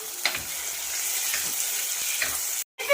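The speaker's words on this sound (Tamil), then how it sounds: "வெங்காயம் வதங்கினதுக்கு அப்புறம் நம்ம அப்படியே டொமேட்டோ ஆட் பண்ணிக்கிறோம்" Tomatoes sautéing with onions in oil for a fish curry, a close, continuous sizzle with a few stirring scrapes that cuts off abruptly near the end.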